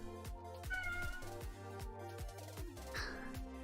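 A single house cat meows once, fairly faintly, over steady plucked background game music from modded Minecraft play.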